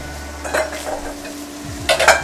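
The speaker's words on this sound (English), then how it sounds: "we're not going to give these veggies very long in the wok fry" Celery and onions stir-fry in a wok for kung pao chicken, with a steady sizzle under brisk metal scraping and tossing. The sound is close and fairly loud.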